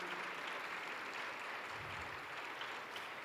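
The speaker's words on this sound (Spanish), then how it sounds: "¿Por qué no le das un fuerte aplauso a los pastores?" A church audience gives the pastors steady, moderately distant applause, a soft even wash of clapping that lasts about three seconds with no pause.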